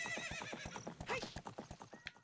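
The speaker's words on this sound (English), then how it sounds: "No, don't get off the horse, Link!" Rhythmic clip-clop of horse hooves trotting at a steady pace in the video game Ocarina of Time, with a horse whinnying partway through, close and clear.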